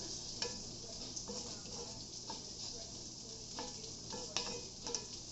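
Refried beans with white pepper being stirred in a pan, a soft continuous sizzle with faint scraping and a few light ticks of the spoon against the pan, fairly quiet throughout.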